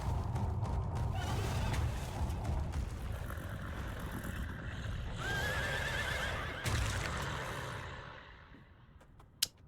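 A horse in a video game neighs and whinnies loudly, with hoof clip-clops and game sounds around it, fading toward the end before a short sharp click.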